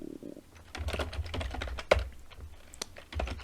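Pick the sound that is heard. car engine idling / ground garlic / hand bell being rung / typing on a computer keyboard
typing on a computer keyboard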